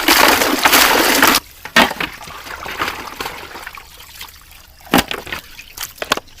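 Raw chicken is rinsed in a vessel: a strong gush of pouring water for over a second, then intermittent splashes, sloshes and trickles nearby as the pieces are swished and washed.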